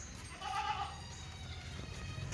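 A long-tailed goat bleats once, a moderately close, brief cry over steady farmyard background noise with no talking.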